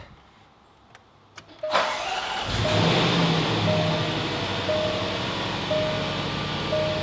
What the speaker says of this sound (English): Now we start the vehicle up.